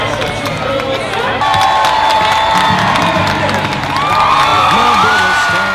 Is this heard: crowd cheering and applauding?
yes